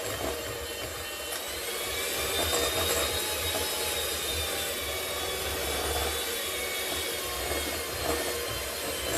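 An electric mixer whisks American buttercream frosting of icing sugar, giving a steady, moderately quiet whirring drone with faint rattling that runs unbroken throughout.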